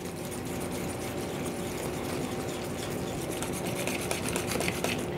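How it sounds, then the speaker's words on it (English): Butter being worked into gluten-free pumpkin cream cheese bread batter with a whisk: a steady, continuous scraping and rubbing with a fine rhythmic texture, close and moderately loud, with no talking. "And just mix this till it's all mixed together."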